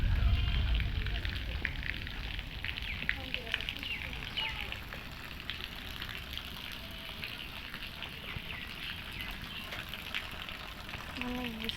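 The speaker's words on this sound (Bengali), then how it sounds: "কীভাবে জল পড়ছে।" Heavy rainwater falling and running after a storm with hail, a steady, faint wash of splashing water that continues evenly throughout.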